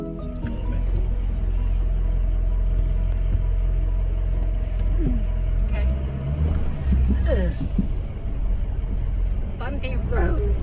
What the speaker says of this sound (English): Bumpy road.